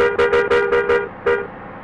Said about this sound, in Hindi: अरे कौन हॉर्न मार रहा है यार इधर?